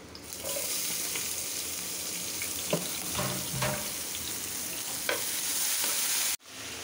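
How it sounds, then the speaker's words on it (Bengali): Onions fry in oil in a pan with a bright, steady hiss close by, and a few spatula taps and scrapes cut through. The sound cuts off abruptly near the end, then the sizzle resumes, with no speech. "এখানে আর একটু তেল দেবো পেঁয়াজটা ভাজার জন্য।"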